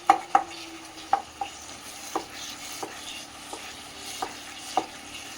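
Cooked pumpkin masala stirred and mashed in a pan, a spaced series of sharp spoon taps and scrapes against metal over a soft low sizzle, close by.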